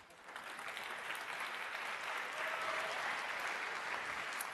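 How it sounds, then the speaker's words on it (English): Audience applause at a World Food Day closing ceremony, a continuous mass of clapping at moderate distance that builds slightly and stays steady throughout, with no speech. "along with a round of applause for Ms. Beth."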